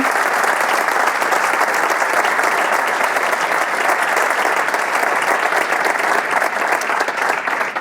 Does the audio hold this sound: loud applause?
yes